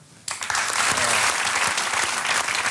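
Audience applause for a performer's oldest friend, his former schoolteacher, at a comedy show encore, bursting in suddenly and holding as dense, steady clapping throughout.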